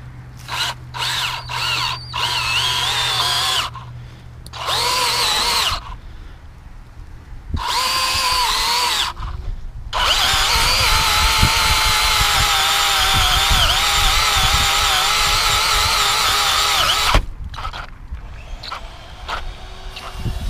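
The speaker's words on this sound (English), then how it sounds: "This is kind of a handy tool for putting in ground anchors" Power tool driving ground anchors into soil, whirring in several short bursts separated by pauses, then a long continuous loud grinding drive that strains under load, close by with no speech.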